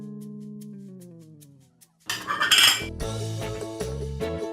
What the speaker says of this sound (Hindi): बर्तन धो रहे हैं बैठ के यहाँ।